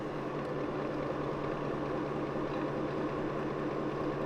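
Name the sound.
robot vacuum dock washing mop pads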